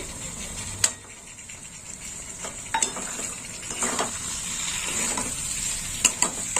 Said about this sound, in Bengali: দিয়ে এবার কষে নেবো কেটে রাখা টমেটো দিয়ে দিলাম কেটে রাখা টমেটো